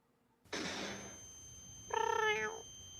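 A cat gives a short, clear meow after a burst of rustling noise, close and fairly loud, with no one speaking.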